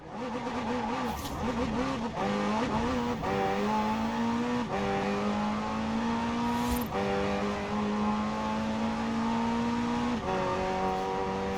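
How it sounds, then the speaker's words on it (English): McLaren twin-turbo V8 hybrid race car in Forza Horizon 4 drones loudly at high revs, pitch climbing through gears with brief dips at each shift and a faint tire squeal. "The car's blistering performance is delivered by a twin-turbo V8, supplemented by a McLaren ECU electric motor and instant power assist system."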